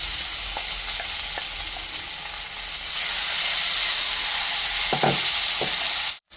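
A hot tempering of curry leaves and pounded raw mango chutney crackles and sizzles steadily, with a few scattered spoon taps on the pan. The fry grows slightly louder midway and cuts off abruptly at the end.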